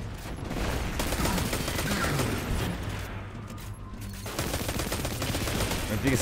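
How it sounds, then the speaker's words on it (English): Rapid weapon fire in the video game Destiny 2, a dense stream of shots with a brief pause midway before resuming, heavy and continuous throughout. "This weapon, by the way, it sounds really boring"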